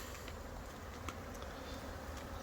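A busy honeybee colony hums in an autumn apiary, a steady, low, constant buzz from many bees close by with occasional brief louder passes and no voices.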